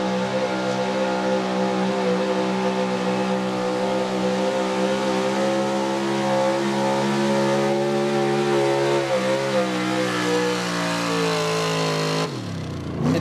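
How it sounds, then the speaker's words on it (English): Brandon Struble's 1997 Ford pulling truck, called Mutiny, screams at high RPM while spinning its tires down a truck and tractor pull track, a loud, sustained engine roar that wavers slightly before dropping sharply at the end. "He got in it fast, was spinning a ton of tire, ton of RPM down the track."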